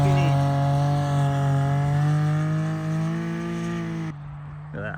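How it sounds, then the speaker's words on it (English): Nitrous-fed, turbocharged 2017 Can-Am X3 side-by-side engine running at around 45 pounds of boost, giving a loud, sustained jet-like spooling whine with steady tonal harmonics that cut off abruptly near the end, leaving a quieter rumble. "It literally sounds like a jet engine. It's just spooling the whole time."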